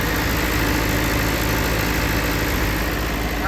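A New Holland 850 tractor engine runs steadily and loudly up close, a constant low diesel drone with no breaks and no voices.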